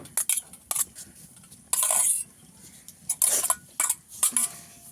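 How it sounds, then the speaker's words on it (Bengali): Boiled potatoes are drained in a strainer, heard as a run of clattering metallic knocks and bursts of rattling, with irregular clinks and pauses between the louder scrapes. "আমি এইভাবে ছেঁকে নেব আলুগুলোকে।"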